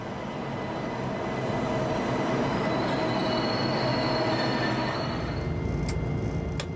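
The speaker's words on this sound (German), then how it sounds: "Begleiten wir den ICE 886 auf seiner Fahrt von Würzburg nach Hannover." An ICE high-speed train departs Würzburg with a continuous loud rolling rumble, a wheel squeal above it and a few sharp metallic clicks near the end, with no voices.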